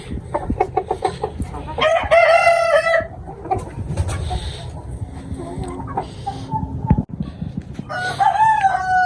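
Roosters and hens in a rooftop poultry setup of Ayam Cemani and fancy breeds cluck in quick bursts and let out loud, close crows, with several overlapping calls.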